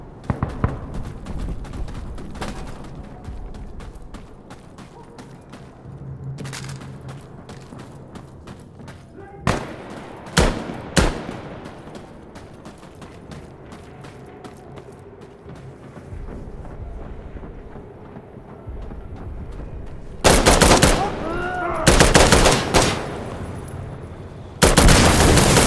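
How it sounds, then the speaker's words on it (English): Gunfire in the tactical shooter Insurgency: Sandstorm, with scattered sharp shots through the first half and loud bursts of rapid fire near the end, over a constant game background. "They fucking shot me!"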